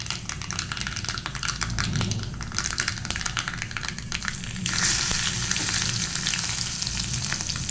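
Mustard seeds sizzle and crackle steadily in hot oil during tempering for a white pea and pumpkin curry, a dense close-up frying hiss that stays fairly loud and brightens midway, with no talking.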